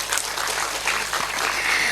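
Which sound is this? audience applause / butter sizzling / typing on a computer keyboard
audience applause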